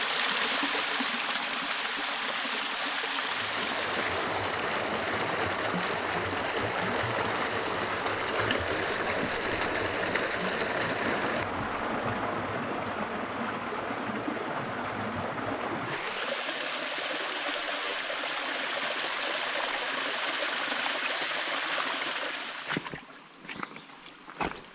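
A creek flows steadily on a peaceful woodland hike, its continuous rushing and trickling water close and loud, fading near the end.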